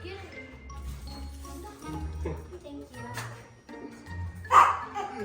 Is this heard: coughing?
no